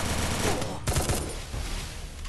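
Gunfire in the Free Fire mobile shooter, a continuous rattle of rapid shots with a sharper cluster of louder blasts near the middle, fairly close and busy throughout.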